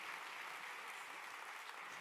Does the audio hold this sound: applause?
yes